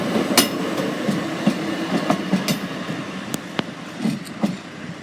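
A train rolls past the level crossing at Deal in Kent, its wheels clicking and clattering in an irregular rhythm over a steady rumble, fairly close and loud, with no voices.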